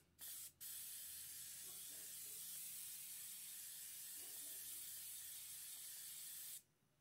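An airbrush fed by a DIY quiet compressor sprays in a steady, close hiss that runs for several seconds after a brief opening burst, with faint muffled sounds underneath.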